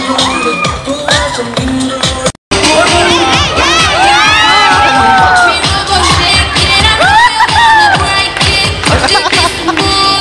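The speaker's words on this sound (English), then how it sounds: "A big round of applause for Pip over here." Loud crowd at a Deepavali event cheering, shouting and whooping continuously, with a brief cut near the start and children's voices rising through the din.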